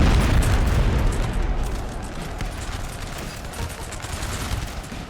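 Massed musket volleys and booming explosions roll together as grenadiers charge musketeers in a large Napoleon: Total War battle, a dense, continuous din of crackling fire and thuds that starts loud and slowly eases.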